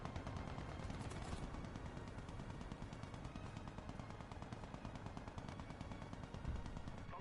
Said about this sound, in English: I hear a machine gun, but where?